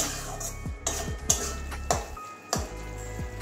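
Spatula scraping and clinking in a pan as garam masala is stirred through a Bengali potol chechki of pointed gourd, a steady series of close metallic scrapes and taps, no voices.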